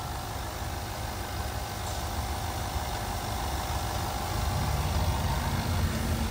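2012 Range Rover Sport HSE with a 5.0 liter V8 engine idling: a steady, even low hum with constant broadband noise, moderately close and unchanging for several seconds.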